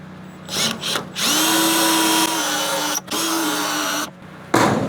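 A power drill whirs in several bursts, starting and stopping with short pauses, close by and loud, its motor pitch holding steady during each run, while building a truck flatbed.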